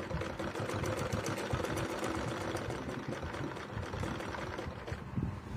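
A sewing machine stitches the pleats of a Patiala salwar, a quiet, rapid, steady mechanical whirring and clatter that runs without a break and eases off slightly near the end, with no talk.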